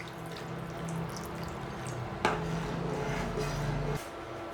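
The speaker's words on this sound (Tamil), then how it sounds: "இது கூட கொஞ்சம் தண்ணியை சேர்த்து நல்லா கொதிக்க விடலாம்." Water is poured into a pan holding milk and garlic, a soft trickling splash over low kitchen hum that stops abruptly after a few seconds, close and fairly quiet.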